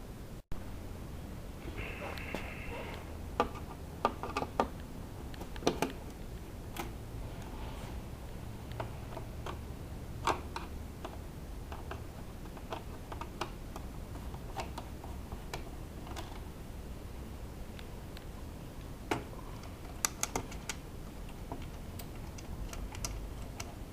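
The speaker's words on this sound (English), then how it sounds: "let's go ahead and undo these screws first" Screws being undone on the air filter cover of a Yamaha FZ16 motorcycle, faint scattered clicks and ticks of a tool against small fasteners, quiet and irregular over a low background hum.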